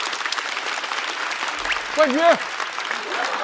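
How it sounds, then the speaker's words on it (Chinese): A talk-show studio audience breaks into sustained applause for a stand-up comedian, a dense steady clatter of clapping, while a host speaks over it and a short musical sting sounds. "再次掌声送给小齐"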